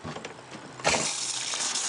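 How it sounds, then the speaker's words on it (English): Hot water from the transom shower of a 1998 Bayliner Ciera 2655 boat, a steady hissing spray that starts abruptly partway in and keeps flowing loudly and close. "So I'm going to use my transom shower to illustrate the problem. So I'm going to turn the hot water on."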